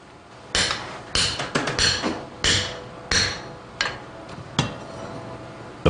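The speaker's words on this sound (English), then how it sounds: "The plaster jacket is opened" Plaster jacket around a dinosaur fossil from Montana being opened, a series of sharp cracking knocks and taps at irregular intervals, some in quick clusters, fairly close in a quiet room.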